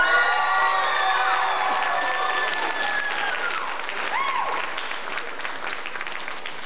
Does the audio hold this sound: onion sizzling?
no